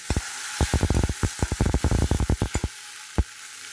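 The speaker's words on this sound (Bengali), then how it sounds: "ধুয়ে রাখা সাদা তিলটা আমি এর মধ্যে দিয়ে দেবো, দিয়ে সামান্য নাড়াচাড়া করে ঢেকে দেবো" Fried okra stirred with white sesame seeds, a rapid run of loud close knocks and scrapes against the pan over a hissing sizzle, ending with one final tap.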